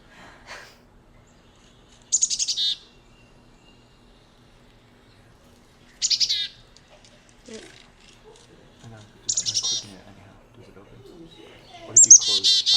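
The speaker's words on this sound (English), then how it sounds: "That's the one that's most classic. Chickadee, dee, dee, dee, dee, dee, dee." Chickadee calls in an indoor setting: a few short, bright, high chirping notes spaced several seconds apart, fairly clear, with a voice speaking quietly between them.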